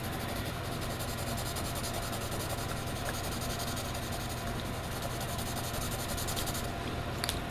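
Graphite pencil shading on paper gives a continuous close scratchy rubbing, faint and steady, with no speech.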